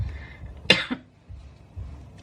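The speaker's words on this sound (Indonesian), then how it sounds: "Maaf ya aku batuk." A single short cough, close and fairly soft, with a quiet room behind it.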